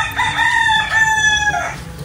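A single rooster crows loudly and nearby, one drawn-out cock-a-doodle-doo lasting about two seconds over a low background rumble.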